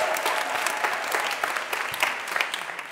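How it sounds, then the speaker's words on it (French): An audience applauds for a mother on a TV show set, a dense, continuous burst of clapping heard up close for a few seconds without talk. "Applaudissez pour la beauté de la maman."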